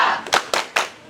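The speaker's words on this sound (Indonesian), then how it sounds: "Untuk berikutnya, tepuk semangat." A group claps in rhythm during an ice-breaker exercise, three quick sharp bursts of hands together, close and loud.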